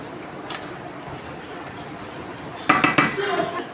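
A cooking pot of taro leaf curry lifted off a stove, heard as a few close metallic clanks and clinks of pot and utensils near the end after a quiet stretch with one earlier knock.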